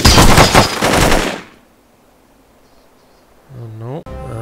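Loud, dense burst of rapid automatic gunfire in the game Jagged Alliance Crossfire, cutting off into near silence, followed by a game voice speaking.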